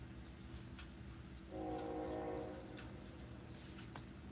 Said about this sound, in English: There's a train outside my house.